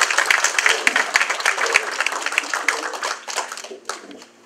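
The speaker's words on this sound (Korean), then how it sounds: "박수로 환영하겠습니다." Audience applause welcoming a speaker at a Korean-American state senate campaign kickoff rally, with dense clapping filling the room steadily before thinning toward the end.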